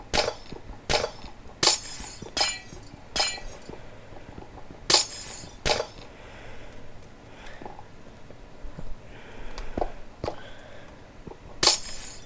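Glass blocks shattering in Minecraft, a series of sharp crisp breaking clinks repeated at irregular intervals, several in quick succession, with no talk over them.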